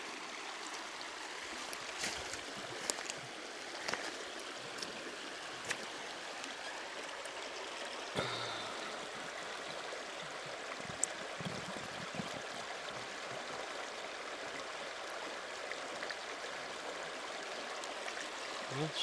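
Steady broadband rush of stream water flowing nearby, continuous throughout with faint occasional clicks and splashes.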